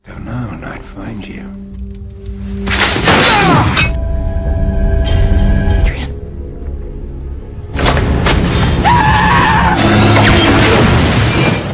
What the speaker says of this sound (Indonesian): Ketika Jenny akan dihabisi terjadi sebuah ledakan yang membuat Adrian terbakar.